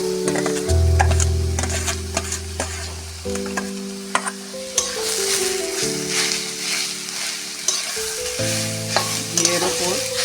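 Grated pumpkin frying in ghee, a loud sustained sizzle broken by repeated stirring scrapes and knocks of a spoon against the pan, with a low hum running underneath.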